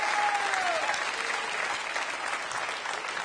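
Audience applause fills a studio during an Italian television broadcast, a steady, dense clapping that stays loud and continuous throughout, with a faint tone sliding beneath it early on.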